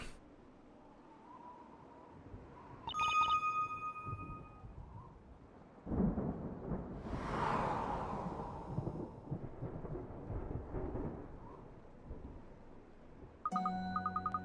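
A lightning storm in Professor Layton vs Phoenix Wright: Ace Attorney produces a deep rolling thunder rumble that swells and fades over several seconds, with bright chime-like game sounds at the start and end and no talking.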